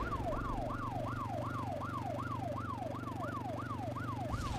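A video game siren in ArmA 2 wails, sweeping up and down in rapid, regular cycles over a steady engine drone, loud and continuous.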